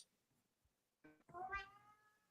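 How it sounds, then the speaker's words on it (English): A pet cat named Butters meows close by, one clear drawn-out call with a rising and falling tone following a short lead-in, then fading into quiet room tone. "Was that your cat?"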